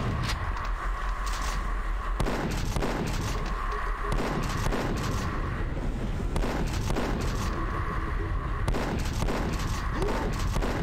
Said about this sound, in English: but it's a grenade launcher